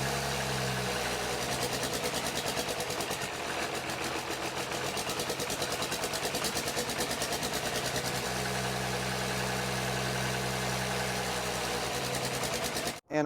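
A Cummins diesel engine, not fitted in a truck, runs steadily at idle with a rapid rhythmic knock and an uneven stumble, loud and close, before cutting off abruptly at the end.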